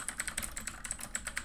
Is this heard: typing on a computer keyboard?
yes